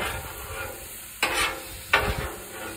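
Stir fry sizzles on a hibachi grill, a steady close hiss broken by two sharp stirring scrapes about a second apart, with no talk.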